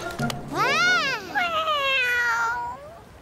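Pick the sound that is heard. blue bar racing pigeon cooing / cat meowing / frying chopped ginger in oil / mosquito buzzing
cat meowing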